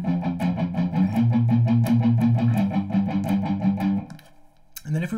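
Distorted electric guitar plays the riff from a song as a steady run of repeated picked notes, loud and alone, cutting off near the end before a final struck note.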